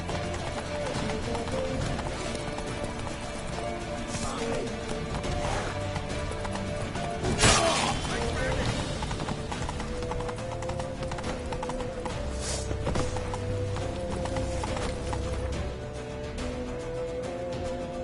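In The Witcher game, a horse's hooves clip-clop in a fast running rhythm over a layered game soundscape, with a loud impact around the middle and a brief whinny.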